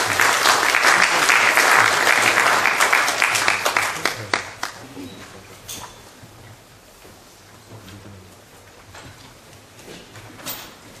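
An audience at an architecture forum on hanok as urban housing gives a speaker a dense burst of applause that thins into scattered claps after about four seconds, leaving a quieter room with a few sparse late claps.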